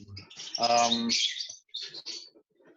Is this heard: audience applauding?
no